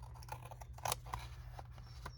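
Scissors snip by hand through paper edges on a patchwork journal cover, a quiet run of short crisp cuts with one louder snip near the middle, alone without talk.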